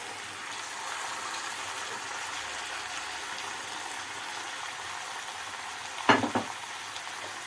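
Diced medium potatoes cooking in a pan over browned tomato paste and minced meat for a Konya mikla dish: a steady, soft sizzle throughout, with a brief louder clatter of stirring near the end.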